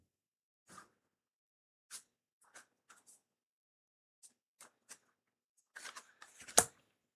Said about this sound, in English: Do more shuffling.